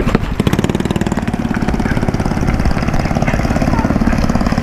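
A small go-kart engine runs close up with a loud, steady buzzing rattle at the track, alongside drift trikes, its pulse holding even throughout without speech.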